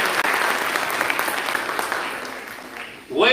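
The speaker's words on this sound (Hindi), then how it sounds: "एक बार जोरदार तालियां अपने लिए भी हो जाए" Steady applause from a children's audience at a Hindi comedy poetry show, a dense wash of clapping that fills the whole stretch before a voice cuts in at the end.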